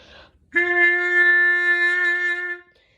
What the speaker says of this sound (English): This is called a harmon mute.